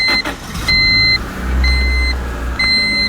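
1997 Honda Civic with a 1.6 liter engine and 222,925 miles, idling with a low steady engine hum while a repeating electronic chime beeps over it in short bursts.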